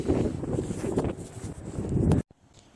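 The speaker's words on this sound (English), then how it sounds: "And it's windy out here." Gusty wind buffeting the microphone outdoors at a pick-and-pull scrapyard, with a low rumbling roar that rises and falls, cutting off abruptly near the end.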